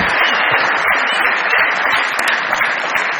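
Studio audience on a Pakistani TV comedy show bursts into sustained, dense applause that fills the whole stretch evenly and loudly, with no talk over it.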